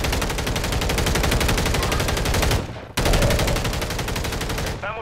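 Rapid, continuous gunfire rattles loudly in two long bursts separated by a brief pause, dense and unbroken like automatic weapons.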